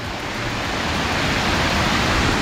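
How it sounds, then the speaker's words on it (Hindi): Neer Garh waterfall in Rishikesh, a small third cascade fed from beneath a bridge, pours in a steady, loud broadband roar of falling water that holds constant throughout with no voices. "तो गाइस ये है थर्ड वाटरफॉल"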